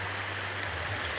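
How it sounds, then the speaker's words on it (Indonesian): Steady rainfall in a lowland porang tuber farm in Brebes during the dry season, a continuous broadband hiss of drops with a low hum underneath and no voices. "padahal saat ini sedang hujan."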